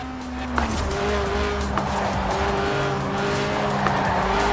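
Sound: video game car drifting, tires squealing

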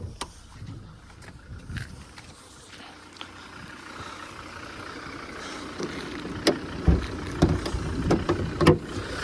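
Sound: Volvo V50 D3 five-cylinder engine idling

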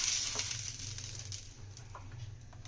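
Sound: frying chakuli rice pitha in oil in a pan

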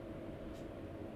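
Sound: train passing by in video game Euro Truck Simulator 2

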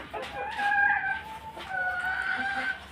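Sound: chickens clucking

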